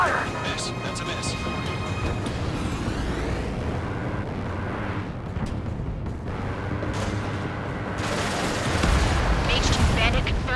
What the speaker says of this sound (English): The harbor is under heavy fire!